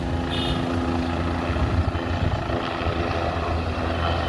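A helicopter at an airport moves straight into its hangar after landing, its rotor and turbine holding a steady, close, heavy drone with faint fluttering throughout. No voices are heard.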